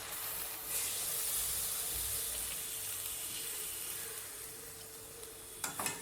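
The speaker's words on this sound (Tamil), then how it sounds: "இப்போ நம்ம வந்து செகண்டாக எடுத்திருக்க பாலை மட்டும் ஊற்றிக்கலாம்." Second-press coconut milk pours into a Kerala-style mutton stew in a pan with a steady, soft hissing wash that fades toward the end, ending in a few light clinks.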